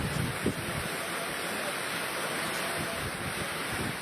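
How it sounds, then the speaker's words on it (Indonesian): Strong storm wind with heavy rain lashes the town of Jember in East Java, a loud, continuous roaring rush with gusty buffeting against the microphone, with no pause. "Video amatir merekam saat hujan deras disertai angin ribut melanda kota Jember,"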